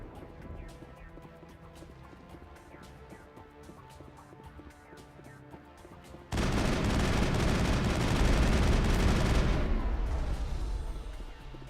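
Gunfire from a gun in the Mass Effect video game, first as sharp, rapid distant shots, then a sudden loud, dense roar of sustained fire that fades out near the end; no voices.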